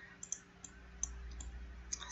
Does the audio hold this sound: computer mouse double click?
yes